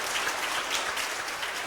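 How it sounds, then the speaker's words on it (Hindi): An audience gives welcoming applause for guests at an SSC exam motivational event, a dense, even roar of hand clapping that stays steady and loud across the whole moment. "पूरे इनके लिए स्वागत कीजिए तालियां बजाकर"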